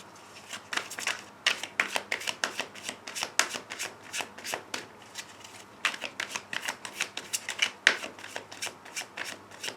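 Tarot cards are shuffled and cut by hand, giving a close series of crisp riffling and slapping bursts with short pauses between them, heard alone without speech.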